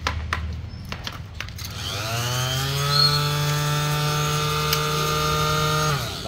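An electric sander starts up and runs close by, its motor whine climbing quickly to a loud, steady pitch and holding there with a buzzing, rubbing edge.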